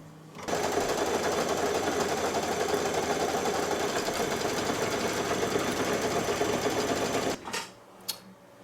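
An embroidery machine stitches a tack-down line over batting, a close, fast, steady mechanical chatter that runs for several seconds, then stops abruptly with a couple of small clicks.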